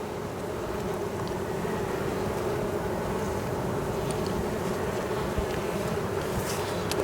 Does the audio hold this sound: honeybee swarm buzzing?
yes